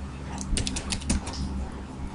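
Fingers tap on a computer keyboard, a quick cluster of light, sharp clicks close by, faint overall with no talk.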